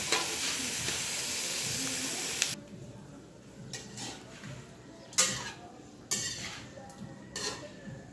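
Caldereta cooking in a pot gives off a steady hiss and sizzle at first. Then scattered scraping and clinking of a utensil follow as the stew is stirred, with quieter gaps between the strokes.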